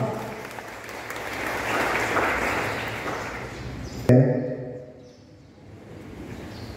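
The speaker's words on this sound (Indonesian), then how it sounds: "mari kita tepuk tangan semua yang meriah buat Kakak Pendeta Eric Maufa" Applause from a church congregation at a digital literacy event for a pastor, a steady wash of clapping building and holding for about four seconds before cutting off abruptly, followed by faint voices and room murmur.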